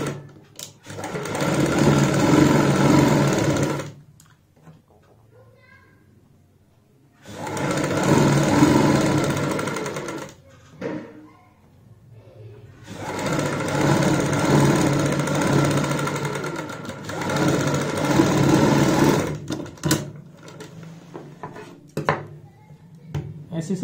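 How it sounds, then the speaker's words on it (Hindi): Electric sewing machine stitching a cuff sleeve for a kurti or blouse, running in three long loud bursts of steady whirring separated by short pauses, with small clicks and handling noises in between. "सिलाई लगाएंगे"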